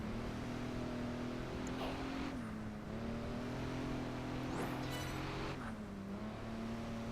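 A car engine in Project Gotham Racing 4 holds a steady droning hum, dips briefly around gear changes, and picks up again, loud and continuous, with a few swooshing passes on top.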